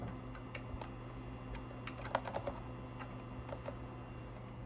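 Light clicks and taps of a computer keyboard being moved and handled, scattered and faint against a low background hum.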